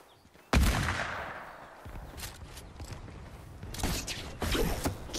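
Gunfire rings out in Fortnite: one loud close shot, then a series of quicker cracks and mechanical clatter mixed with footsteps later on.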